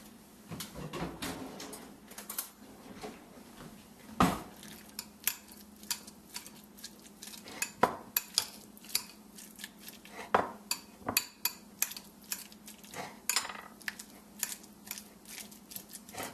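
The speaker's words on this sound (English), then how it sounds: "I like to go ahead and give it a quick mash with a fork." A fork mashing ripe avocado in a bowl, probably for a smoky chicken mango quesadilla filling, gives repeated sharp clinks and scrapes against the bowl in an irregular rhythm, close and fairly loud with no talk.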